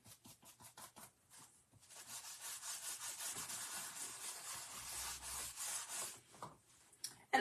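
Paint is rubbed and buffed into a Dollar Tree snow globe base. The close, dry scrubbing starts as quick separate strokes, then becomes a steady rubbing that runs for several seconds and ends with a couple of knocks.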